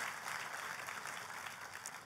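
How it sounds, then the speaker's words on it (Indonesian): A church congregation applauds together, a steady dense wash of clapping that holds evenly from start to finish with no voices standing out. "Tepuk tangannya yang paling meriah buat teman-teman."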